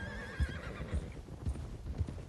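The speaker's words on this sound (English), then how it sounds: "while we're riding the horses back to camp" Horse hooves clip-clop steadily in Red Dead Redemption 2 as riders head back to camp, about four evenly spaced muffled thuds at a relaxed gait, close and moderately loud with no talk over them.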